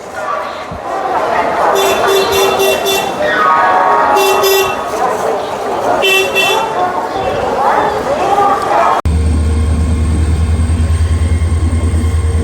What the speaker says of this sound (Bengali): বাইশ নম্বর প্ল্যাটফর্মে হাওড়া পুরী সুপারফাস্ট ঢুকলো